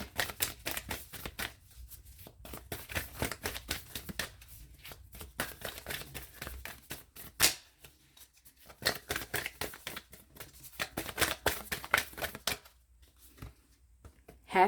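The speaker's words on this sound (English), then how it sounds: "give me a second to keep shuffling because I ain't really shuffled this deck that good after the last pile" A tarot card deck being shuffled by hand in bursts of rapid riffling and sliding card noise, broken by brief pauses, close and fairly loud with no speech.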